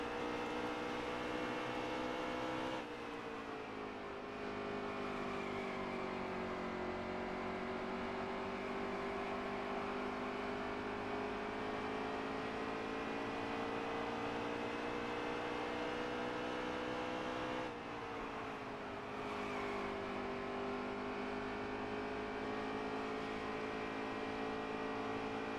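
Racing cars sweep continuously through a corner without lifting, their engine whine steady and loud over a long stretch, with a brief dip and shift partway through as the pitch changes.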